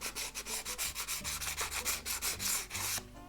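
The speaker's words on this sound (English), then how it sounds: "Now I'm just going to scuff up the lug a little bit." Sandpaper scuffing the plastic launch lug of an Estes Screaming Eagle model rocket, a rapid run of short, close rubbing strokes in steady rhythm that stops near the end.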